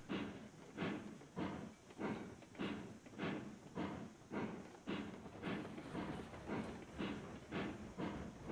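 A steam train in the Railroads Online video game chuffs in a regular rhythmic pulse of hissing exhaust beats, about one per second, steady and moderately faint with no talk over it.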